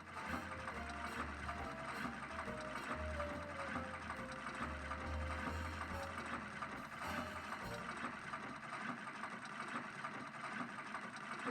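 A sewing machine runs in a Nancy Drew video game set in the 1930s, a steady, fast mechanical chatter at low volume that goes on almost unbroken throughout, with no speech.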